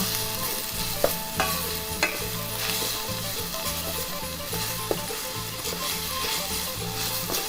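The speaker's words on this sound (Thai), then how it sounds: "เราผัดหมูให้สุกเลยนะคะ" Minced pork stir-fried in a pan for a Thai chilli dip, a continuous close sizzle with rhythmic stirring scrapes and a few sharp utensil taps against the pan, no talking.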